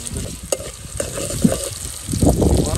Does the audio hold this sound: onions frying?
yes